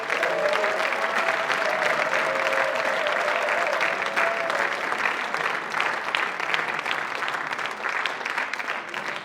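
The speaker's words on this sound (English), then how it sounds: "Give them all a big round of applause." Sustained applause from a festival audience after a performance at the Pan Celtic Festival, a dense, steady wash of many hands holding loud throughout, with a brief tonal hum in the first half.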